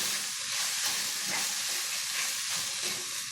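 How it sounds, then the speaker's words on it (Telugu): Potatoes, corn and spices fry for aloo corn pulao, giving a steady, close sizzle with soft stirring scrapes throughout and no talk. "కొంచెం ఇట్లాగా ఫ్రై అయితే మంచి బాగుంటుంది"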